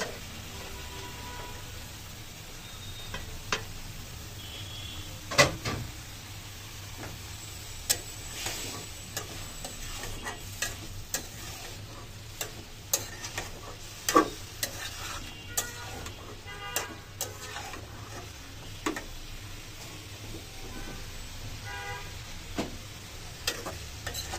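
Stalk vegetables being stirred and fried in a pan, a steady sizzle broken by repeated sharp scrapes and clicks of a utensil against the pan, close and fairly loud, with no talking.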